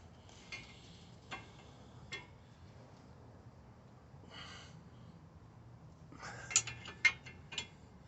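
A tie rod end lock nut being tightened to 80 foot-pounds on a 2012 Lincoln MKZ, heard as a few sparse metallic ratchet clicks and ticks, then a quicker cluster of sharper clicks near the end, otherwise quiet.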